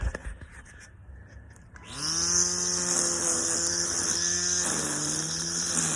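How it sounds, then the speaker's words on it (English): A Kobalt battery weed whacker spins up after a quiet start, then holds a steady, even motor whine with a brief dip partway through, running alone with no voices. "I'll go ahead and do a wee little bit of weed whacking here."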